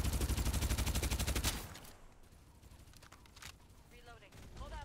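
Rapid automatic gunfire in a video game rattles loudly and evenly for about a second and a half, then drops to scattered quieter shots and background noise.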